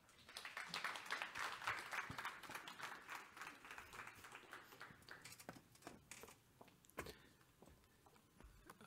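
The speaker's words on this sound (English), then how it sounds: "I'm not really sure that this applause section that you gave was truly genuine" An audience at a conference claps in dense applause that starts strong and gradually thins into scattered claps, heard from a distance and fairly quiet.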